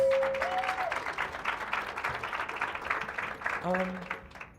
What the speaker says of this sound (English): who also deserve a round of applause